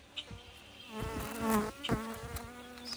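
Honeybees buzzing around an opened hive during a beginner beekeepers' inspection, a steady insect drone that swells and fades with people talking close by.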